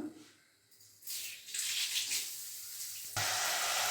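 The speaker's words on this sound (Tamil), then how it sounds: "எண்ணெய் சூடானோடனே வெங்காயம் போட்டுக்கலாம்." Large onions dropped into hot oil for a Tamil mutton and greens curry kulambu, starting a steady hissing sizzle that swells and holds, fairly close and alone.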